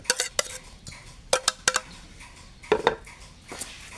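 A utensil scrapes and clinks against a bowl in irregular bursts, several sharp taps and scrapes as a Thai spicy raw shrimp salad with herbs and chili is stirred up close.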